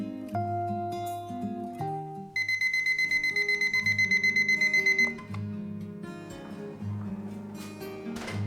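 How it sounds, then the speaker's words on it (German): A bedside alarm clock goes off early in the morning at home, a rapid train of bright electronic beeps pulsing steadily for a few seconds amid soft melodic background tones, with no talk. "Wie jeden Tag klingelt auch am Freitag mein Wecker um 5:20 Uhr."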